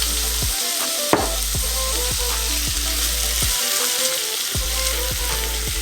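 Garlic sizzles loudly in a hot pan of chickpea curry, a steady bright crackle of frying with repeated soft clicks of stirring throughout and a sharper clatter near the start, with no talk.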